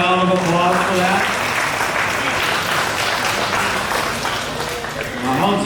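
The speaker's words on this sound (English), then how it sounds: "we give her another round of applause for that" An audience claps loudly and steadily for a glassblower in Corning, NY, after the glass is whacked free of the pipe, with a voice briefly audible at the start.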